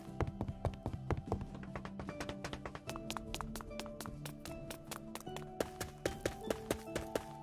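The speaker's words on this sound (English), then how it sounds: "some new footstep sounds" Footsteps from a Terraria ambience mod, a 2D sandbox video game, fall in a steady rapid series of crisp taps and thuds, with background game tones beneath them.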